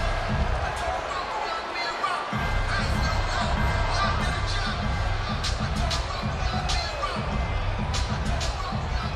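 A large crowd at the Mayweather vs Pacquiao boxing weigh-in roars and cheers continuously, a dense wash of noise with sharp bangs and claps, under a commentator talking.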